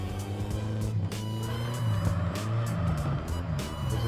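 A car engine revs in third gear while drifting in CarX Drift Racing Online, a steady loud droning whine with shifting pitch and faint tire noise, continuous and close.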